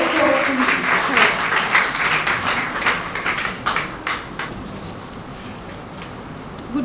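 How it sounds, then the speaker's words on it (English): Audience applause at a symposium marking a women's association's second anniversary, a dense burst of clapping that thins out over several seconds into a quieter room. "let's give a round of applause to her"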